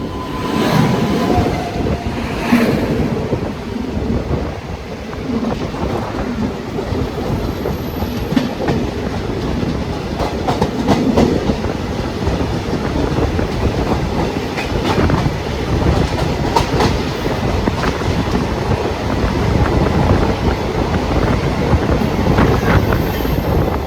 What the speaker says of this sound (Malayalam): നമ്മുടെ ട്രെയിൻ ഇപ്പോൾ ആക്സിലറേഷൻ തുടങ്ങും കേട്ടോ